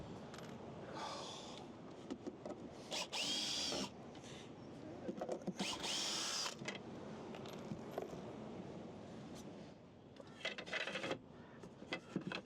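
A power drill backs screws out of the slats of an under-bed storage frame in a garage, whirring in two or three short, fairly loud bursts separated by quieter handling and rustling.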